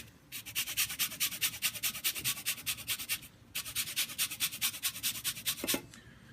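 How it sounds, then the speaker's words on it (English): A lemon is zested for butter in rapid rhythmic rasping strokes against a grater, two bursts of quick scraping separated by a short pause, close and fairly faint. "take this lemon and add the zest of this lemon"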